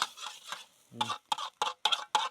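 A chef tosses a wok of food frying in oil, giving a run of sharp scraping, sizzling bursts in a steady rhythm. The sound is close and moderately loud, with faint voices in the background.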